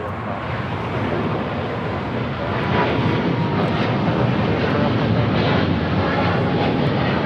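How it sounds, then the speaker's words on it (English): Philippine Airlines 113 Heavy, a Boeing 777-300ER, takes off from LAX bound for Manila, its jet engine roar a loud, steady broadband rush that swells slightly and holds throughout. "This is Philippine Airlines 113 Heavy taking off to Manila"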